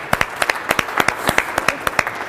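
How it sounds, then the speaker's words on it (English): Seminar audience members clap in a loose, sparse rhythm of distinct hand claps, close and fairly loud, with no talk over them. "Let's clap for this."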